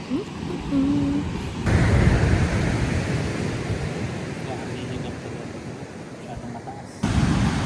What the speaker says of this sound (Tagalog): Grabe, ang lakas pa rin ng alon